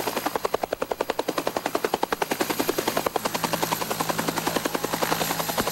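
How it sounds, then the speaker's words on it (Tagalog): Military helicopters over Butig, Lanao del Sur, their rotors thudding in a loud, steady rapid rhythm that swells and slightly changes pitch as they pass, with no voices. "Napapadalas na naman ang paglipad ng mga military helicopter sa bayan ng Butig,"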